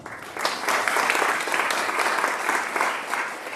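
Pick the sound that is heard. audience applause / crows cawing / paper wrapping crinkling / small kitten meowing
audience applause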